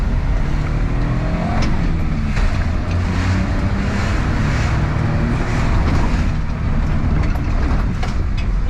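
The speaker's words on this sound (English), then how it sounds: "Now I'm gonna really drive on this road and it's pretty bumpy." A Suzuki Jimny fitted with new shocks drives hard over a bumpy road, making a constant loud rumble of tyres and suspension with strong wind buffeting, and nobody speaks.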